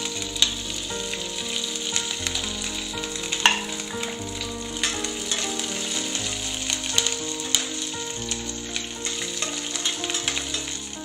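Green chillies sauté in a hot pan as the first step of a tomato chutney, giving a steady close sizzle and crackle with occasional stirring scrapes and no talking.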